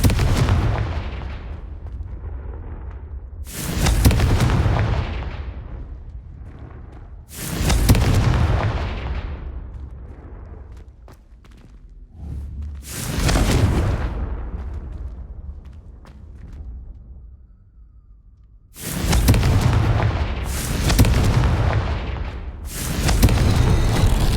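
Five loud Confringo fire-blast explosions from Hogwarts Legacy erupt one after another every few seconds, each a sharp booming burst that rumbles and fades before the next, with faint ambience between blasts.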